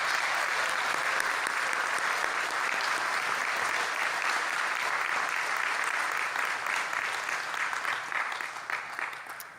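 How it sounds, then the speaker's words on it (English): Graduates of the class of 2023 at a college campus ceremony in Gander receive a long round of applause from the audience, a steady crackle of many hands that fades slightly at the close. "the graduating class of 2023, let's give them all a round of applause"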